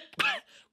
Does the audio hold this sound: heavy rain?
no